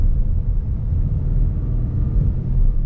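A Ford GT's engine is pushed hard, a loud low rumbling roar that swells and holds steady across the stretch, with no one speaking over it.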